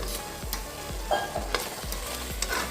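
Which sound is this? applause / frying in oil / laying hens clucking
frying in oil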